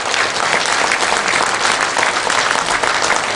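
Loud, dense applause from a lecture audience welcoming a guest speaker, continuous and even throughout, close and alone with no voices over it.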